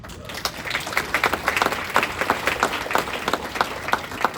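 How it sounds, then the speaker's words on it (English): Audience applause at a public address on Kentucky's economy, a steady patter of many hands clapping at moderate volume for several seconds without speech. "I didn't think I'd get applause on world trade"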